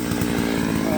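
A chainsaw mill runs steadily, its rough buzzing engine drone filling the short moment at a constant, fairly loud level with no voices over it.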